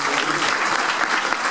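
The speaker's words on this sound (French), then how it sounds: "La vente des vins, on peut l'applaudir déjà quand même" A burst of dense, steady applause from a crowd at a presentation of a half marathon in Nuits-Saint-Georges, loud and continuous throughout the short stretch.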